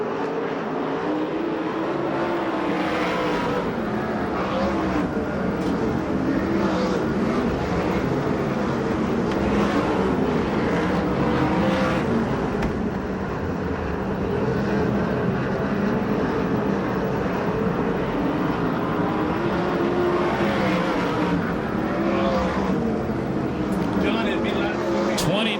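USAC/CRA sprint cars race at Perris, California in a 50-lap Salute to Indy event, making a continuous roaring engine drone. Race commentary talks over the cars throughout.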